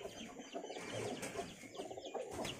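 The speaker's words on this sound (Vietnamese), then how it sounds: "Bồ câu." Pigeons coo softly in a rural mountain village, with faint clucking fowl mixed in among low, murmuring bird calls.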